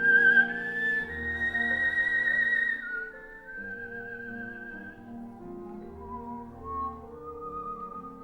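A person whistles a clear, sustained melody with long held notes and gliding pitch changes, loud at first and then softer, with no talking.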